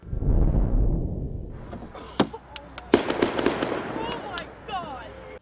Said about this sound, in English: Gunfire is heard outside a home on a darkened Penn Street in Williamsport.